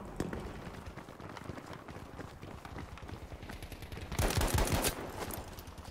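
Rapid rifle fire from a fully upgraded Gewehr 1-5 in the Battlefield 5 video game, sharp repeated shots amid other battlefield gunfire, with a louder dense burst near the end.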